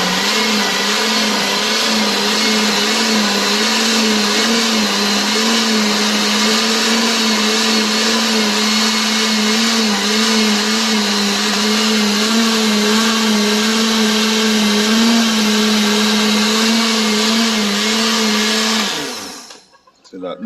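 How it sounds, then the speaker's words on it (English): An electric blender runs steadily and loud, blending cut-up bell peppers into juice in a Jamaican countryside kitchen, with a strong motor hum that cuts off abruptly near the end. "Now the blender, blend it."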